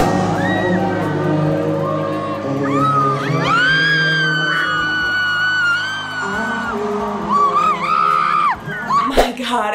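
A woman near the front row at a concert screams and shrieks loudly, with long high sustained cries rising over a crowd's din and music, ending in sharp bursts.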